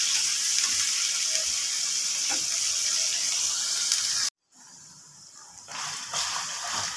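Qeema cooking down in ghee until dry gives a steady, close hiss of frying that is broken by a brief silence and then comes back a little rougher and more uneven.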